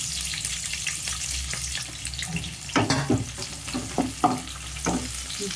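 Onion and green chillies fry in a pan for tomato egg rice, a continuous close sizzle with several sharper stirring scrapes and clatters in the second half, no talk.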